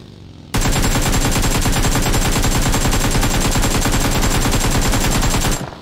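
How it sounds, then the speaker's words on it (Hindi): Sustained automatic gunfire from the battle royale game BGMI, a loud dense rapid-fire burst of shots that starts abruptly and runs nearly nonstop for over five seconds. "ये देख रहे फायर, इसको हम कम से कम 50 गोली मारे होंगे"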